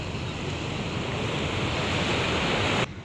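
Sea waves wash steadily onto a beach in a close, loud and continuous roar mixed with wind rumble on the microphone, cutting off abruptly near the end.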